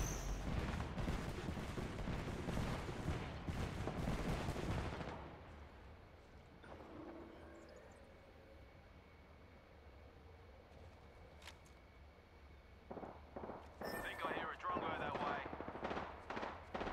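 Sustained bursts of automatic gunfire in the Apex Legends video game, loud and rapid for several seconds, then a quiet stretch before fresh shots and rattling bursts return toward the end, with a voice speaking briefly.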